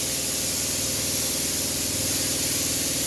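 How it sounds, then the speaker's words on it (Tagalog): A spray gun lays color onto the body of a Scania bus during repainting. It gives a loud, continuous hiss that holds steady for the whole stretch, with no talking. "tapos bugahan na mo og color"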